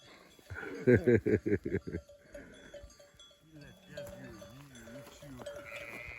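A flock of sheep bleating in a quick run of loud, close cries near the start, then softer calls with other livestock sounds and a cowbell-like clank, in an open grazing setting.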